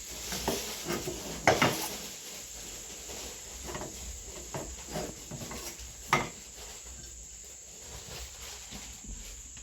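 A spoon scrapes and stirs aloo paratha potato filling in a pan on a switched-off stove, with scattered close clinks against the metal and two sharper knocks among soft mixing sounds.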